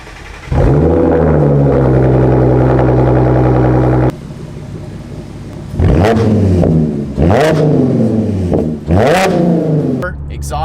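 An Audi S4 with its stock exhaust revs loudly several times, rising and falling in sharp bursts after a steady, loud idle-like drone, close and alone.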